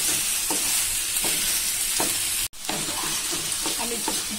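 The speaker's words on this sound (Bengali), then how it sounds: "বেশ ভালো করে হালকা তেলে ফ্রাই করে নিচ্ছি।" Meat frying in a light film of oil for a mint mutton curry: a steady bright sizzle with a short dropout partway through and periodic soft scraping of a stirring utensil.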